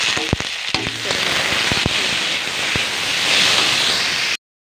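Chopped tomatoes and sugar sizzle in a hot pan, a steady dense crackle and hiss with scattered sharp pops, close and continuous until it cuts off.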